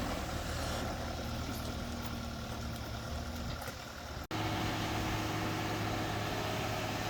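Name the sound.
concrete truck engine idling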